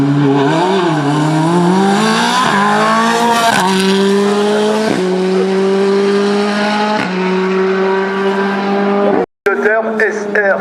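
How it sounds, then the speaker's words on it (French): Formula Volkswagen single-seater race car climbing a hill-climb course at Vuillafans, its engine revving loud and close with rising pitch sweeps through gear changes, cutting out briefly near the end. "Pascal Collat avec la formule Volkswagen pour le pilote Bisontin"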